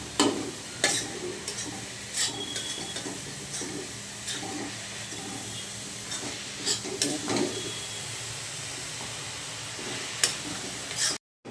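Coconut and milk mixture for coconut laddoo being stirred in a pan as the milk dries out, soft repeated scraping strokes with light sizzle underneath, close and steady, no speech.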